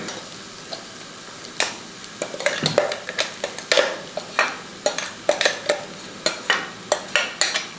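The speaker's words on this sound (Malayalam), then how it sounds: "അപ്പം നമ്മൾ ഈ അരപ്പിട്ടതിന് ശേഷം ഒന്ന് ഇളക്കി കൊടുക്കുക." A spoon stirring ground paste into half-cooked eggs in a pan makes close, repeated scraping clacks in a steady irregular rhythm over a soft sizzle.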